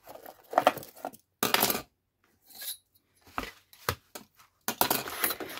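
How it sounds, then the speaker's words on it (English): A craft knife guided along a ruler cuts slots through a handmade lapbook-style journal, giving several separate sharp scraping strokes with quiet gaps between them, close and clear, with no talking. "And now with the knife and ruler, I'm gonna cut these slots."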